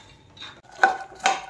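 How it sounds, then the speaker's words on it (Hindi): Fox nuts (makhana) roast in ghee in a pan while a utensil stirs them, making two distinct scraping, rattling strokes against the metal over a quiet background. "मखानों को आपको घी में ना 3 से 4 मिनट तक रोस्ट करना है ताकि अच्छे क्रिस्पी हो जाएं"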